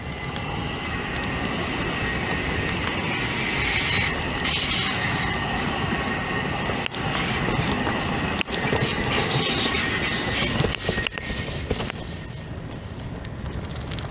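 A Long Island Rail Road train on the Long Beach branch passes close by, a loud steady rumble of wheels on rail lasting throughout, with faint squeals and clacks.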